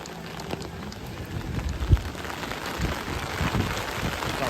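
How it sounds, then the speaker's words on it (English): Rain patters steadily onto an umbrella at an outdoor theme park, a dense close drumming of drops that runs throughout with one brief heavier tap. "Like rain against the umbrella."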